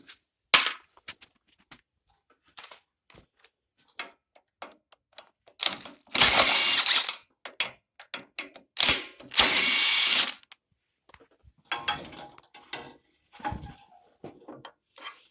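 A hand ratchet loosens the head bolts on the 18.5 hp Briggs engine of a John Deere LA100 lawn tractor, giving sharp clicking pawl bursts and two longer ratcheting runs between scattered metallic taps, close and with no voices.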